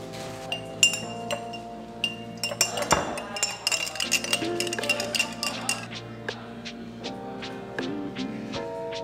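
Honey dijon dressing with garlic, red wine vinegar, lemon juice and olive oil being stirred in glass, producing a rapid series of bright, ringing clinks that continue in irregular bursts, close and clear.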